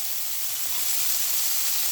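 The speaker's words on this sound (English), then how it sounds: "throw in your frozen vegetables" Frozen vegetables hit a frying pan with softened onion for vegetarian fried rice. They give off a steady, bright sizzling hiss that swells slightly, close and alone with no talk.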